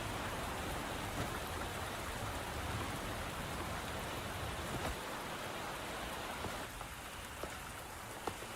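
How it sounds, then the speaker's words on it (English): Heavy rain in the video game Wuthering Waves pours in a dense, constant roar of drops on surfaces, loud and steady, thinning slightly near the end with a few sharper drips. "Are you trapped here by the rain?"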